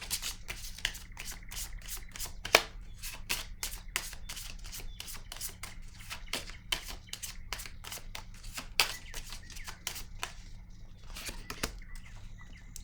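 Tarot cards are shuffled and drawn by hand, a steady close run of quick papery riffles, flicks and slaps, with occasional sharper snaps over a quiet background hum.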